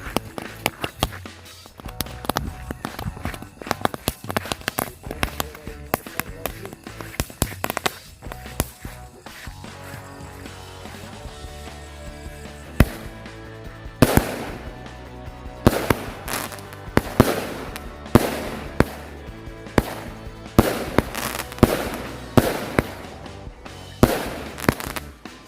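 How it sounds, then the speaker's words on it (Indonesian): A sixteen-shot lovely flower firecracker cake goes off at night, firing a long series of sharp bursts and crackling pops, loud and close, that thicken into rapid volleys toward the end. "Kita lanjut lagi menyalakan mercon lovely flower 16 lesutan"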